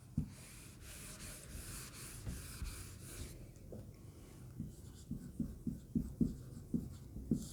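A pen scratching across paper in steady, rhythmic strokes, faint and close, with the scribbling growing more distinct and evenly paced toward the end.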